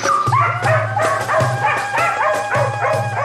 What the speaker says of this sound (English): he jumps up quickly and starts barking